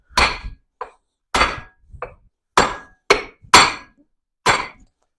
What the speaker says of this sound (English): give it a couple of good smacks with a hammer first